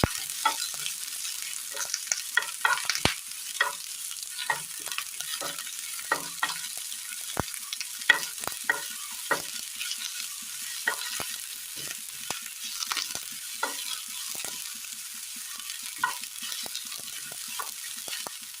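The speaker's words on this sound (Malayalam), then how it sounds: "ഇനി നന്നായി ഇതൊന്ന് വഴറ്റിയെടുക്കണം" Sliced onions and two split green chillies sautéing in a pan for a Kerala dish, a steady sizzle broken by frequent scraping stirs of a spoon, close and continuous, with no voices.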